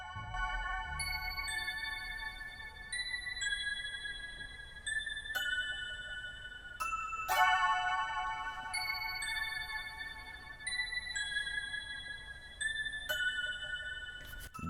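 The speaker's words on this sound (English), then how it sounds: "I also added a toy piano, which it sounds like this." A toy piano synth preset plays a MIDI melody an octave up in a synthwave-style beat: bright, tinkling, bell-like notes in a repeating rhythmic pattern, quiet and alone, with light percussive hits.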